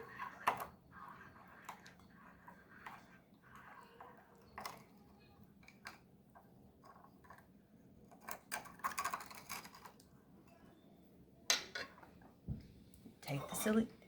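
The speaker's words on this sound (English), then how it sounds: "Take your knife, not the sharp side, the dull side of your knife, and run it around the edges of your ramekin." A dull knife blade scraped around the inside edge of a ramekin holding a baked flan, giving faint, scattered clinks and light scraping taps, quiet and close, with short louder knocks toward the end.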